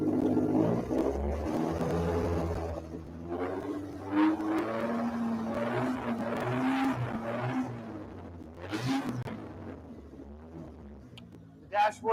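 A Toyota 1MZ-FE V6 idles steadily in an MR6 build, a continuous low engine drone with some rises and dips in pitch, loud and close throughout.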